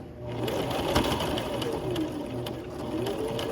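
A sewing machine stitches fabric with a back stitch along the seam allowance, running as a steady, close, rattling whir with a fast mechanical tick and no pauses.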